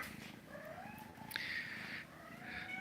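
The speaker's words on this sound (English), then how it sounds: "She's purring and happy." A quiet, steady purr runs throughout, close and low, with a faint higher meow-like whine partway through.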